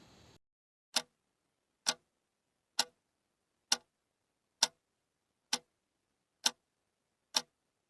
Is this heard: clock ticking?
yes